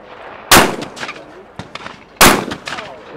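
Two sharp, loud gunshots crack about two seconds apart at an outdoor shooting competition at a game fair, each followed by a brief echo and faint background sounds.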